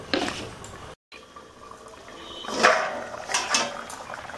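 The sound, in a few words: pointed gourd and potatoes boiling in a covered pot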